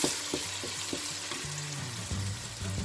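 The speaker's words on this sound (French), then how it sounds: "Puis je fais blanchir les oignons." Onions cooking in a pan for tuna fried rice, a steady soft sizzle and crackle with occasional stirring scrapes, moderately quiet and close, no talking.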